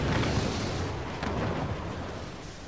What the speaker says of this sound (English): Oh man, lots of explosions.